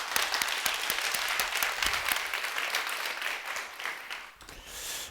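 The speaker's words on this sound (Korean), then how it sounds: "여러분 다시 한번 큰 박수 부탁드리겠습니다." Enthusiastic applause from a crowd at a literary award ceremony, dense clapping that gradually thins and fades toward the end.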